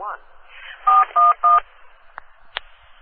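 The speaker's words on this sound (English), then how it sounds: "If you know your party's extension, please dial it now." Telephone keypad DTMF tones sound on an automated phone line: three clear, evenly spaced beeps in quick succession, followed by two shorter faint blips, with a recorded voice heard at the start.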